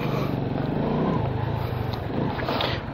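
A Euro Marvel 125 motorcycle engine hums steadily at low throttle on a test ride, a continuous near drone with slight rises and dips throughout.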